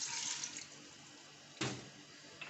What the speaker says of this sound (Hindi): ये 1 गिलास पानी डालेंगे